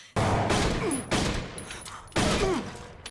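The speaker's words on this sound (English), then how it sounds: "Is shooting him gonna be enough?" Gunfire from a Supernatural TV episode sounds as three loud, booming shots with long ringing tails, spaced about a second apart.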